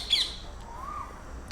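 A flock of caged long-tailed finches at the Garia bird market gives one sharp, close squawk at the start, followed by a faint, thin call amid a low market hum.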